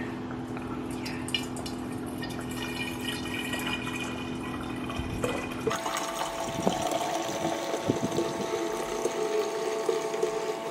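Homemade green juice, greenish brown, poured from a large jug into a storage container, giving a steady close liquid gurgle and splash that carries on for the whole stretch with no talking.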